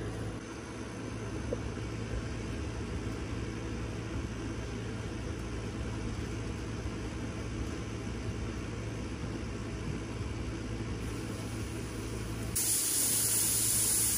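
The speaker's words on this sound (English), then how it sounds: "our canner has vented steam for 10 minutes" A steady, continuous hiss of steam venting from a vintage Mirro-Matic 6-quart pressure canner with a low rumbling undertone, unchanging throughout, getting slightly brighter near the end.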